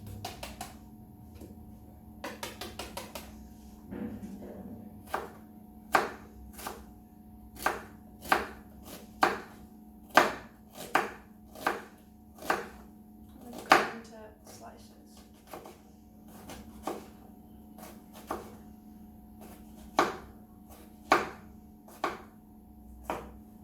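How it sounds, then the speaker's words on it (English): A knife chops onions for fajitas on a board, a long run of sharp evenly spaced chops, close and distinct, some in quick bursts, with a faint hum in the background. "We just trim off the tip, score the sides along the lines of the onions."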